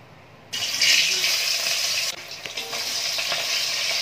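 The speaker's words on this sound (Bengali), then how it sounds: "মাছগুলো এক পিঠ হয়ে গেলে আরেক পিঠটাও ভালো করে ভেজে নেব।" Pabda fish fry in hot oil in a wok, a loud hissing sizzle bursting in suddenly as they go in, then settling into a steadier crackle with occasional spatters.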